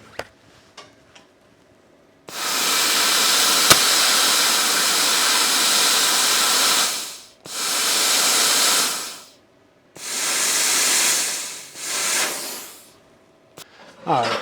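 An Arccaptain CUT 50 plasma cutter slices through an old, gnarly, rusty bolt, giving off a loud, steady roaring hiss in three long bursts with short silent gaps between them, and no voices are heard.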